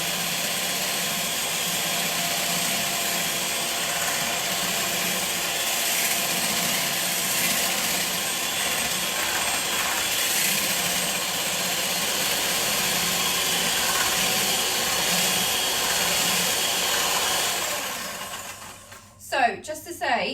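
An electric mixer whisks aquafaba for a vegan meringue, a steady, loud motor whir that holds for about eighteen seconds before tailing off into a few clattering knocks at the end.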